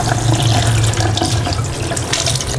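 A plucked duck is rinsed under running tap water, a close, loud, steady gush of water splashing continuously.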